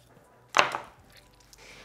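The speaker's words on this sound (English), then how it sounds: "hold the wing up and slice where that bone ends. Cut it right out" A knife cuts the wing off a whole raw chicken at the joint, making one sharp, close crunching chop that trails off quickly into quiet, with no voices.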